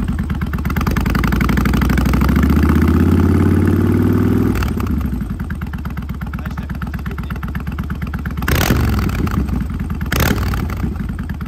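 A Kawasaki VN 1500 Custom cruiser motorcycle idles with a deep, loping V-twin throb nearby, then is revved hard several times, with sharp bursts of throttle before settling back to idle.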